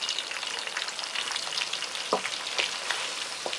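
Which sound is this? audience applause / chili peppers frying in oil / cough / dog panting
chili peppers frying in oil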